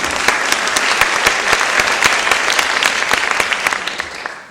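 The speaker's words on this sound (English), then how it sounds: "they're clapping before you even say anything" An audience at a film festival women's panel breaks into dense, steady applause, loud and close, sustained for the whole stretch before easing off slightly at the end.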